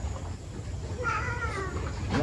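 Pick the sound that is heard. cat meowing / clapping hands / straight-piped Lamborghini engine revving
cat meowing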